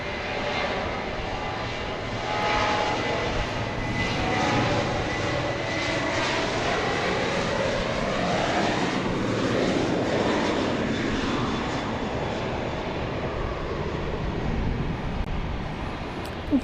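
Airplane at Dallas Love Field airport producing a steady, loud engine roar that swells and holds for many seconds, heard alone without talk.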